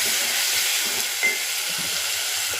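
Onions frying in a pan with ginger and garlic being added, a steady close hiss of sizzling oil with faint soft stirring scrapes underneath and no talking.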